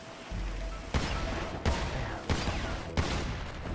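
Gunfire in GTA V, four loud, spaced shots at roughly regular intervals, each a sharp burst with a decaying tail over continuous background noise.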